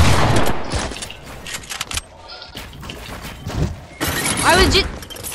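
A new hunting-style sniper rifle in Fortnite fires several sharp, loud cracks among busy game sounds. Someone talks over parts of the gunfire.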